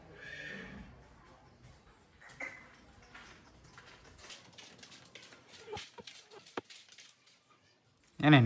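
A mare whinnies at a farmhouse at night, a short neigh near the start, then scattered clicks and rustles, and a loud burst at the very end.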